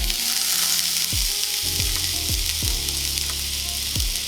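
Thinly sliced onion sizzles in olive oil, a steady bright frying hiss with several low hollow knocks and bumps from the pan scattered through it.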